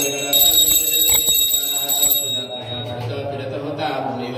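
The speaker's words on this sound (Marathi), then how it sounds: "प्रत्येक अध्याय वाचून झाला की गंधफूल वाजायचं आणि घंटा वाजवायची" A small metal hand bell rings rapidly and brightly during a community Satyanarayan puja in a Maharashtra village, lasting about two seconds before fading as a voice continues chanting.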